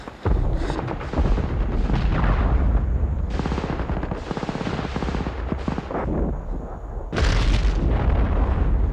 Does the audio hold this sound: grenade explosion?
yes